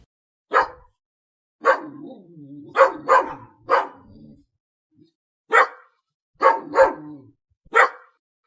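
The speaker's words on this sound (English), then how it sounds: "Dog." A dog barks about eight times in sharp, loud, separate barks at an uneven pace, each bark standing alone against silence.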